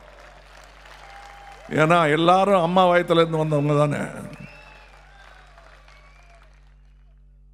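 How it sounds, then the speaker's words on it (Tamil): An audience at a 2019 party manifesto event breaks into loud applause that lasts about two seconds, then fades. Someone speaking in Tamil is heard before and after the clapping. "ஆண்களும் சேர்ந்து கைத்தட்டலாம்"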